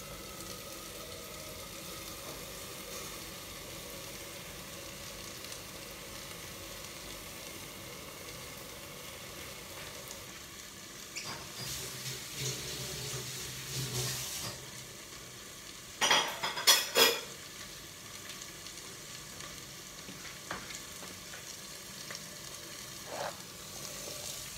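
Cabbage pieces fry in oil with already browned onions, giving a steady low sizzle throughout, with a few louder clatters and stirring bursts midway and no talk.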